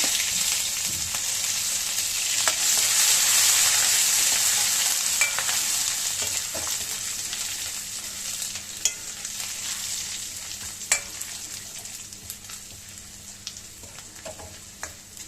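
Steady, fairly loud sizzling of garlic and ginger frying in a pan, with occasional stirring clicks and scrapes, no voices.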